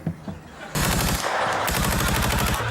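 Automatic gunfire rattles in fast, rapid bursts at close range, loud and continuous after a brief quieter moment with faint sounds.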